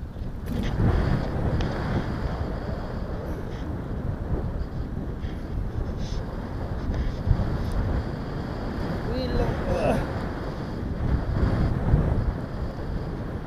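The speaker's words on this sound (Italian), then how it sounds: "c'è vento, si è alzato." Wind buffets an outdoor microphone in rough, continuous gusting rumbles that swell and ease over several seconds, with faint voices partly buried beneath the blustery noise.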